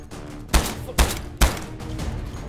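Gunfire from an SA-47 rifle in a modded shooting game, three loud close shots about half a second apart over a busy background.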